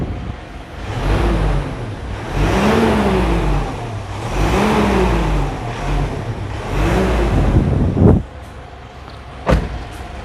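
A 2009 Mitsubishi Pajero Exceed diesel engine revs up and down in several loud swelling waves over a steady clattering idle, with a couple of sharp knocks near the end and no talking.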